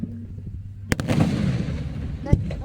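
Firecrackers and fireworks go off at a fireworks show in Dewitt, Nebraska: a sharp close bang, then a rolling rumble of distant booms, and another loud crack near the end, with voices faintly in the background.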